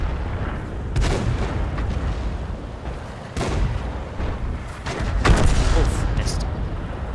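Artillery tank cannon fire in World of Tanks gameplay: a few heavy booms and distant blasts ring out over a constant rumbling battle ambience with engine noise.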